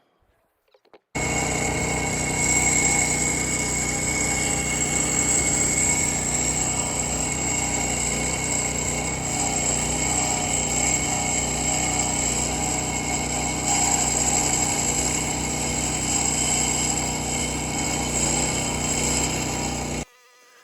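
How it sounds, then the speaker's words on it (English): A power trowel runs on a concrete floor, a steady high-pitched motor whine with a buzzing drone that starts abruptly after a quiet moment and holds for nearly twenty seconds before cutting off. "I'm not going to really show you every hit of the power trowel"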